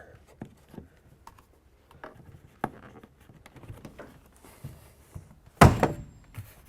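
A Mustang door panel is pressed into place, giving scattered soft clicks and taps, then one loud, close thunk as it seats, followed by a brief rattle.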